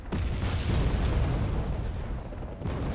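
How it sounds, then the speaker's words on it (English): Artillery fires in the strategy game Wargame: Red Dragon, a dense, rumbling boom and roll of distant explosions filling the moment without any voices. "Artillery firing"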